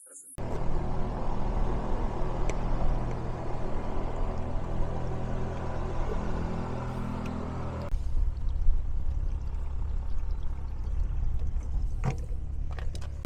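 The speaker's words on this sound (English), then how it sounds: "we're going to drain the fuel that's in our tanks" Fuel drains from the tanks of a Tecnam P2006T aircraft during a pre-flight check: a steady splashing hiss of liquid pouring, loud and continuous, with a low rumble and a brief knock near the end.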